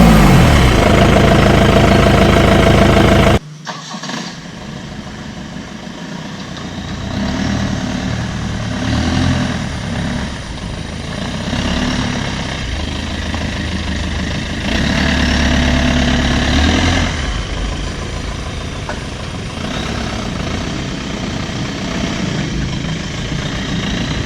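A Mahindra Bolero 4x4 facelift with a modified exhaust and a tweaked fuel pump idles steadily and close by after a brief louder burst, a low, even rumble that swells slightly now and then.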